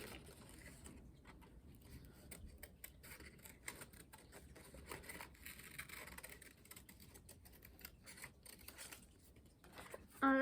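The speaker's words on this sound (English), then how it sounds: "Now I'm just going to cut this out as well." Scissors cut out a paper leprechaun pot for a St. Patrick's Day craft, making quiet, close, repeated snipping and rustling at an uneven rhythm with no talking.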